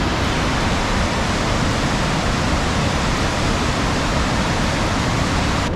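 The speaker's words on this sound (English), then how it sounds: "you can just hear the water raging from the car." McDonald Falls in Glacier National Park roars as a dense, unbroken rush of raging water, loud and constant from start to finish with no other sound breaking through.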